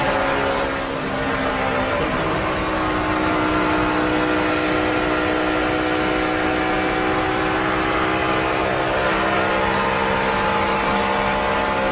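A race car engine drones steadily at high revs around the Charlotte oval, a continuous loud buzzing tone with little throttle lift, heard from on board for the whole stretch.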